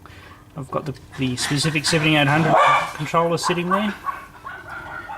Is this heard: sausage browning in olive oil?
no